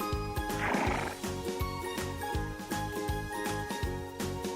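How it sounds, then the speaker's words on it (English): A horse neighs loudly and shakily near the start, then clip-clopping hooves and bright jingling bells keep a steady, repeating rhythm over a looping musical backing in a farm-animal setting. "horse,"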